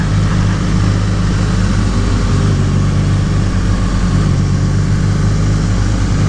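Close, loud engine drone from a 2018 BMW R nineT motorcycle with a snatchy throttle, holding a steady low rumble with slight pitch wobbles and no talking.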